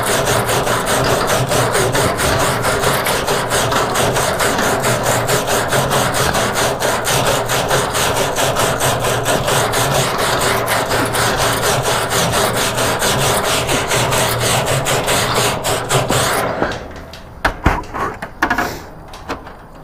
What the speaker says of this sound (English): you take your first 3 feet and you start scraping. I'm twisting as I go.